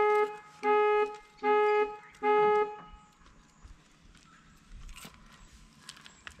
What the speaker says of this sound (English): So as I was saying, that was the panic alarm.